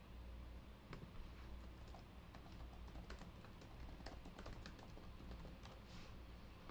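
Someone types on a computer keyboard in a steady run of faint, rapid key clicks over a constant background hiss.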